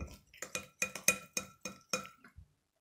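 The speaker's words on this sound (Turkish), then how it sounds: "Şimdi bunu güzelce karıştıralım." A utensil clinks against a bowl of thick savory pizza cake batter in a quick series of about eight strokes, close and fairly quiet, then stops.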